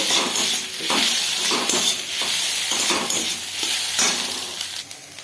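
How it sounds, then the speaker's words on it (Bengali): Steady sizzling of food frying in a pan, with occasional soft scrapes and stirring clinks throughout. "ডিমটাকে ভালো করে ভেজে নেব।"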